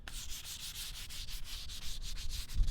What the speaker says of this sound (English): I'm just sort of smoothing it out just to get it a little bit better.